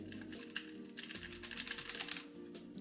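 Someone types a stream key on a computer keyboard, a close, steady patter of quick key clicks in irregular bursts over a low background hum.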